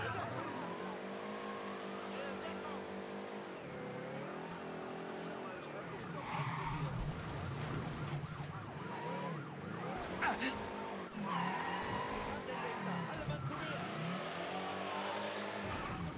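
A car in a video game drives hard with its engine revving and tires skidding and squealing through several turns, joined by a police siren, while voices talk over it throughout.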